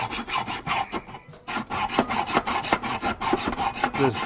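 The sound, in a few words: hand-cutting through a bolt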